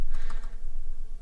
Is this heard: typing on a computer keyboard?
yes